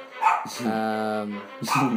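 An indoor dog yips and gives a drawn-out whining howl between sharp barks, close and fairly loud, alone with no talking.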